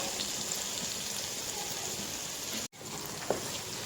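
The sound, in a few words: eggplants sizzling while being roasted in a pan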